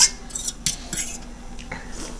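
A plate handled while eating Maggi noodles and boiled eggs, with several light clinks and scrapes of dishware spread over a couple of seconds, close and fairly quiet.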